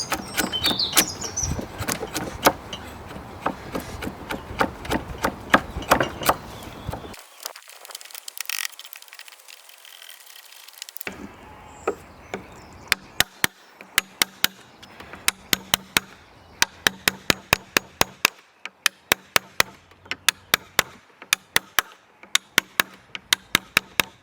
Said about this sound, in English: This Japanese carpenter slick was very useful at chipping away some of the excess